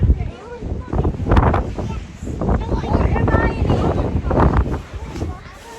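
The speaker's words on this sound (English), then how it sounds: "I'll just show you how windy it is." Strong wind buffets the microphone at West Beach in loud, irregular gusts, with voices talking over the roar.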